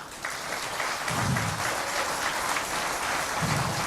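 A church congregation applauds the Lord during a French-language worship service, a steady, dense wash of clapping from many hands filling the room without pause.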